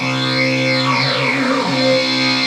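Sustained synth notes hold steady while a sweeping, warbling effect triggered from a MIDI controller glides through them, loud and continuous with no talking.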